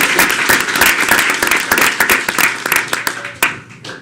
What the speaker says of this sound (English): let's give one last round of applause to our student artists.